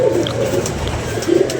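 Pigeons coo close by in soft, rolling phrases, with a few low calls rising above a steady murmur of cooing.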